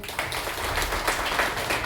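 Audience applause at a kirtan devotional performance: dense, even clapping from many hands, loud and continuous across the whole short stretch with no voices over it.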